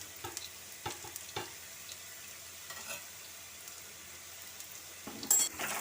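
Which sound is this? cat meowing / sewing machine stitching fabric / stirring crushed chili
stirring crushed chili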